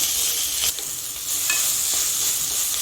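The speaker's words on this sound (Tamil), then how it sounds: "இப்போ வெங்காயம் போட்டுக்கிறேன் வெங்காயம் நல்லா வதங்கட்டும்" Onions fry in a pan as the base for chicken gravy, giving a close, continuous sizzle with a few stirring scrapes and clicks. No one talks.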